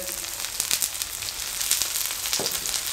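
Rice flour roti cooking in oil on a hot griddle, a steady soft sizzle of frying with a few light scraping clicks near the end, close and fairly quiet, no talking.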